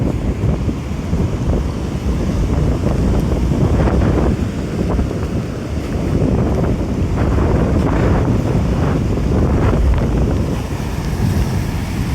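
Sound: sea waves

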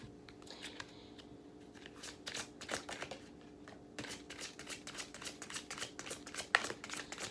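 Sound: shuffling tarot cards

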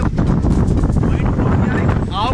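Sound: cold wind blowing by river

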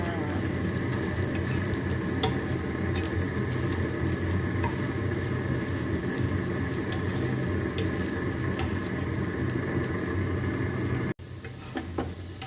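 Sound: Thai pork sausage stir-fried in a hot pan

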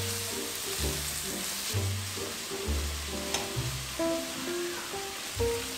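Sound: kimchi frying with bacon in pan

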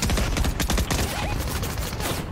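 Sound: gunshots in a video game

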